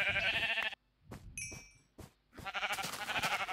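A cow mooing in the Minecraft video game, a few short bursts of animal calls in an in-game farm setting over background game sounds.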